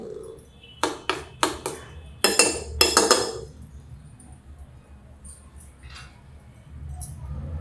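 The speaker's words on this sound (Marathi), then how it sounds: "मी झाकण ठेवते" Metal lid set on a pot of soaking sabudana, a quick series of sharp clinks and rattles, close and bright, followed by quieter faint taps and low room noise.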